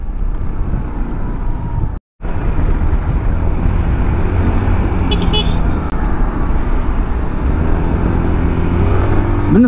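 A 2024 Austin ST Max 200cc scooter engine runs steadily and close by, giving a continuous rough hum that cuts out for a moment before carrying on.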